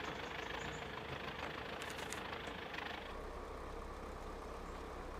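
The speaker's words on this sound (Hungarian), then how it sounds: "már hallom, hogy itt pörgeted az MTZ-t" An MTZ tractor engine in the driving game Spintires drones with a steady, dense, mid-pitched roar, fairly quiet, easing slightly near the end, with no talk over it.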